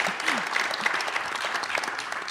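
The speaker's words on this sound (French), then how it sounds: "vous pouvez applaudir" Audience applause at a public debate in Nantes on energy and public service, a steady dense clatter of many hands clapping throughout, moderately loud with faint voices underneath.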